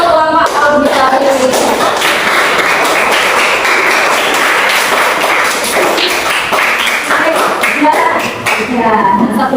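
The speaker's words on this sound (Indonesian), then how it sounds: "Tepuk tangan semua untuk kelompok auditori." A group of students claps for a classmates' group after a class presentation on food chains, dense, steady clapping filling the whole stretch with voices and chatter mixed in.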